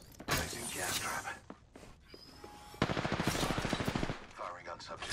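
Gunfire in the video game Apex Legends: a few sharp shots followed by a rapid automatic burst, loud and close, with brief game voice lines and effects mixed in.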